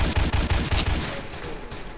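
Rapid bursts of gunfire in the video game Apocalypse Rising, a loud quick string of shots that thins out toward the end of the short clip.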